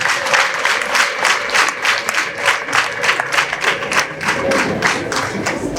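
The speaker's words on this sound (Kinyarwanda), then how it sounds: "Mundiza amashyi menshi cyane." Congregation applauding during a Catholic Mass celebration, dense sustained clapping from a crowd with rhythmic pulses, close and loud across the whole stretch.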